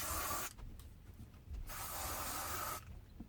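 Degree DrySpray antiperspirant sprays in two long hissing bursts separated by a brief pause, close and fairly faint.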